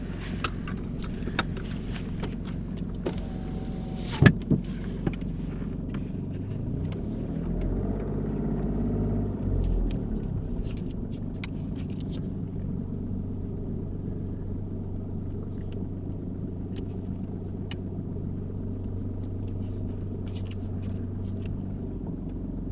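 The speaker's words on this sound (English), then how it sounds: "I can turn on the car" A car engine idles during a UK mock driving test, a low steady rumble inside the cabin that swells briefly midway and continues quietly, with a few clicks near the start.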